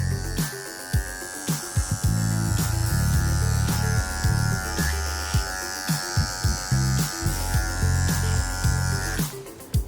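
Electric clippers buzz steadily through grooming a dog, the blade pivoted out to blend around a flap of skin, with repeated sharp clicks and taps over the constant hum, close up and fairly loud.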